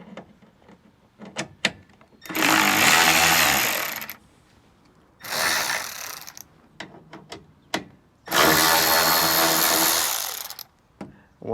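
A power ratchet or driver with a 5/16 socket runs in three long bursts, backing out the tail light screws on a 2020–2022 Ford F150, separated by short clicks and handling noises, close up with no talking.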